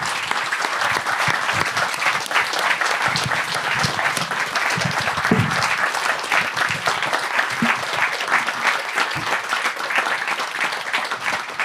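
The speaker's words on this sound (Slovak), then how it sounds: "Ja som všetko už dôležité o ňom povedal, ale váš potlesk si zaslúži Petrovi Kubinovi." Sustained audience applause for a guest at a live talk show event in Banská Bystrica, a dense steady wash of clapping from a large crowd filling the whole stretch with no speech over it.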